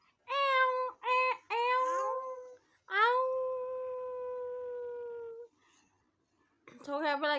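A voice imitates a cat's meow, giving several short calls followed by one long, drawn-out meow, then a pause and another call at the end.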